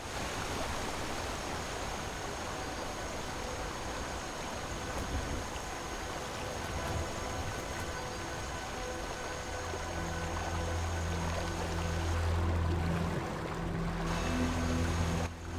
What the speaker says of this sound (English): I think I'm going over a waterfall.